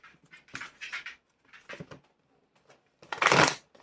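A small dog moves around a quiet room, its soft paws scratching and shuffling in short scattered bursts, with one louder rustling burst near the end.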